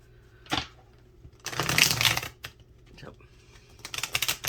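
Cards are riffled and shuffled in a couple of quick, crisp bursts, close by, with brief taps and rustles between them.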